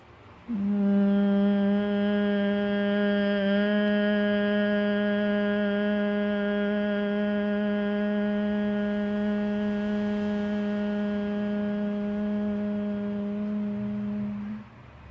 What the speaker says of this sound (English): just generate that humming sound